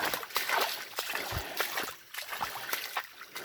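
A small backyard creek trickling and dribbling over its bed, a faint, close, continuous burble of light splashes heard alone.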